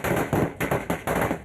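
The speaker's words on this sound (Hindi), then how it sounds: "महाराष्ट्र के अहमदनगर में चंदनपुरी नाम के छोटे से गांव में आतिशबाजी शुरू हो गई।" Rapid bursts of firecrackers and fireworks crackle at a small village celebration in Ahmednagar, Maharashtra, loud and close, in several dense rattling volleys without pause.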